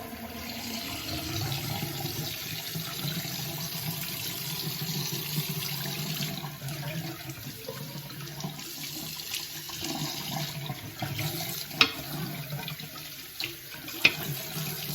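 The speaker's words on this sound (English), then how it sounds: "I'm going to run some cold water. Let that water run out." Cold water runs steadily from a tap into a sink during a straight razor shave, a continuous close splashing rush with a few faint clinks.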